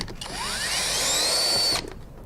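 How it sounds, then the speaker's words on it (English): A small power screwdriver removes four screws from a P100 gyro, whining for under two seconds with a rising pitch that then holds steady, close and loud with no talk. "So you need a screwdriver to remove these 4 screws."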